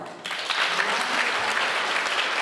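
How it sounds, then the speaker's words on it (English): Loud, dense applause from a live audience at a special program, sustained and even throughout after a brief quieter start, with no voices over it. "Let's have a louder round of applause for this."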